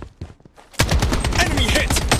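Dense, loud gunfire in the shooter Project Bloodstrike breaks in suddenly after a quieter moment, with rapid overlapping shots, impacts and an announcer voice in the mix.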